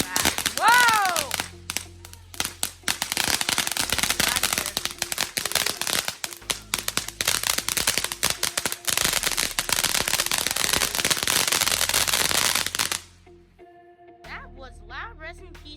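Fireworks and firecrackers set off in Papa Zahin: loud, rapid strings of sharp crackling bangs with a rising whistle near the start, then a cut to quieter scattered pops and fizzing, with voices here and there.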